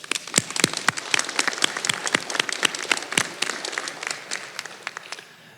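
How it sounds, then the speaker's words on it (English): A smaller crowd claps at an adult education graduation ceremony. The individual hand claps come through distinctly in an uneven patter that gradually thins out over about five seconds. "Let's give them all a round of applause."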